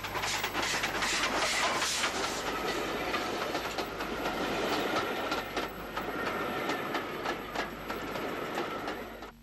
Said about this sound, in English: A Derry-bound train headed by an S-Class speeds out of the city through Adelaide.